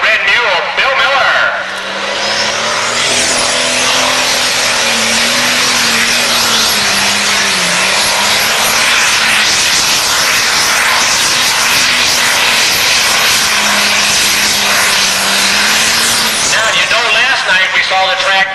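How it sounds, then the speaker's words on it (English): A 1066 pulling tractor roars at full throttle during a truck and tractor pull, a loud sustained blast with a wavering low engine tone lasting the whole run, as an announcer talks over it. "The 1066 out of Iowa, the red mule, Bill Miller."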